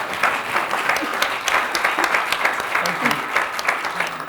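An audience gives a round of applause at an education event, dense clapping with slight swells in intensity, continuous and fairly close throughout.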